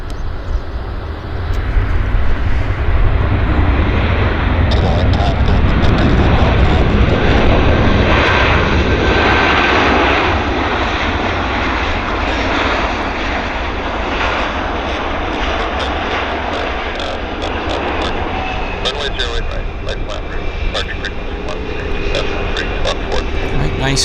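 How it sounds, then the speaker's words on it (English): A United airliner landing at Vancouver airport, its engines roaring loud and steady throughout while someone talks over it. "Quite a nice landing there on the United as well."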